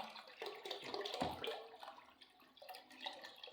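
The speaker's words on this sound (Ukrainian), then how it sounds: "водичка ще зараз лиється і перестає текти" Water runs from the drain tap of a water heater boiler being emptied into a bucket, a steady close splashing stream that rises briefly and then tapers as the flow slows toward stopping.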